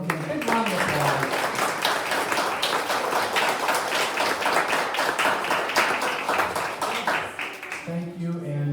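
Applause fills a board meeting room, a thick round of many hands mixed with voices and cheers, holding steady before fading out near the end as a voice resumes.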